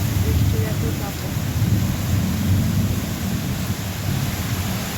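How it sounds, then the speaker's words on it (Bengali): A downpour drums loudly and continuously onto a flooded home courtyard, a dense and steady roar of heavy rain. "এত জোরেই বৃষ্টি হচ্ছে যে ওপারে কিচ্ছু দেখা যাচ্ছে না"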